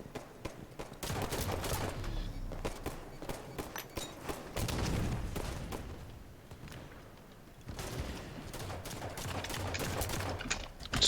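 Dense, continuous bursts of gunfire and rapid shots from a competitive first-person shooter grand-finals match, loud and sustained with brief lulls, layered close and distant.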